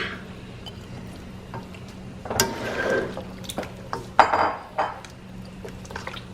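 Carrots tipped into a pot of Thai beef curry (kaeng phet) and stirred, giving a few close clattering spoon-and-pot knocks with wet sloshing, louder bursts near the middle and end over a quiet kitchen background.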